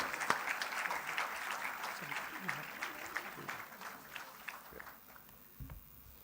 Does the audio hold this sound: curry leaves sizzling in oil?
no